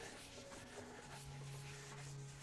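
A waxed tack rag is wiped across sanded black oak, giving a soft, continuous rubbing and brushing sound, faint and close, with no talking.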